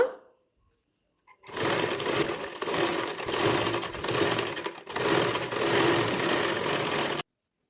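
A sewing machine stitches along a folded fabric edge in two steady, close bursts of whirring motor and needle clatter, separated by a brief pause, with no talking.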